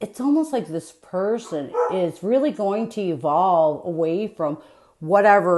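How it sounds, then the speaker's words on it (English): A dog barks and yips repeatedly in short bursts close by, mixed in with a person talking steadily over it. "I'm sorry about my dog"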